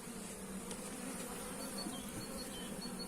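Honey bees buzzing on frames of a twelve-frame standard hive at an apiary, a steady, faint, close drone of many insects that continues throughout, with no talk.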